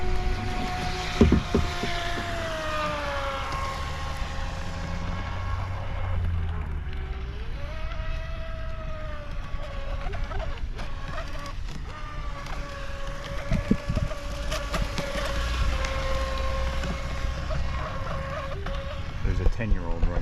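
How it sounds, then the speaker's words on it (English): A Pro Boat Sonic Wave 24-inch RC boat running on 3S whines steadily as it moves on the water, its motor pitch rising and falling, with wind noise and people talking nearby. "Pro Boat Sonic Wave, 24-inch on 3S."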